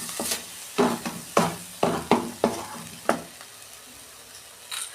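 Coconut filling being stirred in a pan over a gas flame: a series of distinct scraping strokes, close and fairly clear, that tail off into quiet, with no one speaking.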